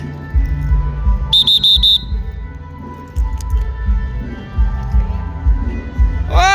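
A short trilling whistle blast sounds several times in quick succession over a low rumbling hum, and a rising whistle tone comes at the end.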